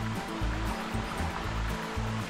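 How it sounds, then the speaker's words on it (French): A small waterfall on the Ain river makes a steady, broad rush of falling water. A lower rumble pulses beneath it, heard from a kayak at a short distance, with no one talking. "Une petite cascade au fond là-bas."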